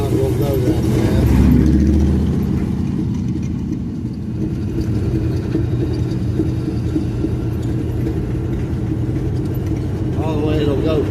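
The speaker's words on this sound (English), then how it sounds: "One good thing about this truck being a standard, it's not going to go that fast." A manual-transmission truck drives along with a steady, loud low engine rumble and throbbing drone, heard from inside the cab, while someone talks over it.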